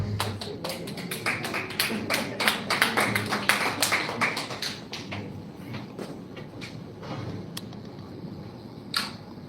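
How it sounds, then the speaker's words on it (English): Scattered audience clapping at a church reunion gathering, dense broadband claps at first that thin out into a few isolated, fading claps. "If that clap was for me, it was too much, but if it was for God, it was not enough"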